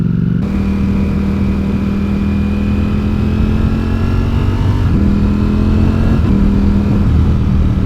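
A Ducati Panigale V4S motorcycle fitted with a full exhaust is ridden on gentle twisty roads, its engine droning loudly and close with a steady, buzzy tone that shifts pitch as the rider changes throttle and gears.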